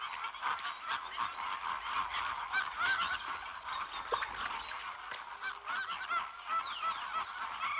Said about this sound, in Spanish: para contemplar a los bellísimos flamencos rosados